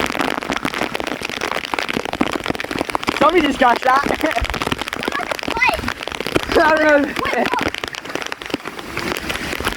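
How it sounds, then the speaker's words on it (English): Heavy rain pours down during a flash flood in Fargo, North Dakota, a dense continuous hiss and patter close by, with people talking loudly over it throughout. "Dude, it's not hail. It's just rain."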